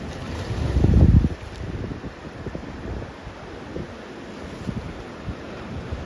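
Sea waves surge and break against shoreline rocks in a loud, close crash, then settle into a softer wash of water and wind rumble with scattered splashes.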